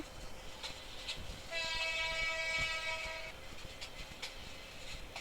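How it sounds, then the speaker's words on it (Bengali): A train in the Train Simulator Bangladesh video game rolls along with faint rhythmic rail clicks, and a horn sounds for about two seconds in the middle, quietly overall. "দেখতে পাচ্ছেন আমাদের ট্রেন এখন চলছে"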